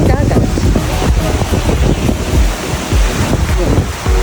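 Ocean surf washing onto a beach in the Maldives, a steady roar of breaking waves with wind buffeting the microphone and faint voices in the background.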